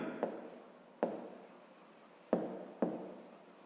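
Pen or chalk strokes writing out a square's perimeter and area for a fifth-grade maths exercise, four sharp onsets each trailing into soft scratching, close and fairly quiet with no talk.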